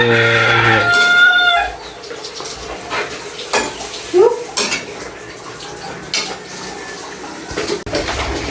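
Clinking and scraping of a utensil stirring pork and chicken caldereta in a pot, with several sharp knocks, after a brief bird-like call at the start; faint background sounds throughout.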